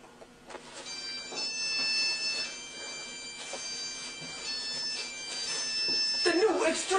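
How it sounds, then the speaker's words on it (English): A homemade phone ringtone plays a continuous tinny melody of electronic tones for about seven seconds, steady and fairly loud, with a brighter burst near the end. "That is officially up for vote as the lamest ringtone ever created."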